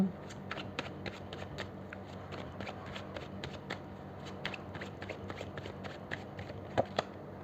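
Tarot cards being shuffled by hand, a run of quick crisp riffling flutters repeating in a steady rhythm, close and moderately quiet, with occasional faint talk beneath.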